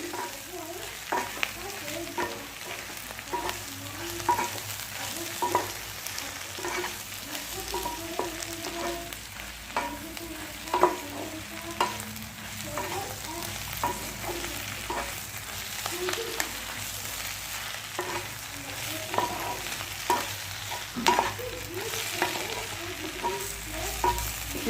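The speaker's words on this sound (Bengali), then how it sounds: "একটু ভাজা হোক" Steady sizzling of a chapati frying with sauce, with intermittent scraping and stirring clicks from a pan, continuous and fairly close, no voices.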